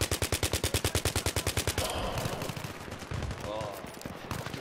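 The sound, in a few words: UMP submachine gun firing in Battlefield 3 video game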